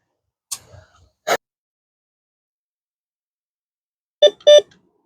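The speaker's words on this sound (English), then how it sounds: "on the outside I'm getting a pretty good beep" A handheld metal detector sounds short electronic beeps over a buried target while someone digs for coins outdoors, two clipped tones early and a louder pair near the end, with quiet gaps between.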